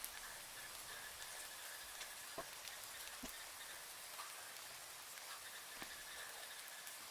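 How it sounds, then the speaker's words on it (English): Rain falling outdoors, a soft, distant, continuous hiss with a few sharper drips or ticks, quiet and steady, with no voices. "Okay, I hear the rains."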